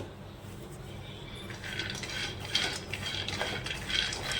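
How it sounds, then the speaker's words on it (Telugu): Peanuts dry-roasting in a pan over a low flame, with light scraping and rattling of nuts and utensil against the metal, fairly close but soft, growing busier midway through. "ఇప్పుడు మనం ఈ పల్లీల్ని దోరగా వేయించుకోవాలి"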